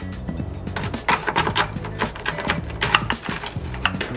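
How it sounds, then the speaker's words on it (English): Shaved ice spooned into an old-fashioned glass for a strawberry bourbon drink: a steady run of close crunchy scoops, clinks and taps, uneven in rhythm and moderately loud, with no talk. "and fill it up with shaved ice."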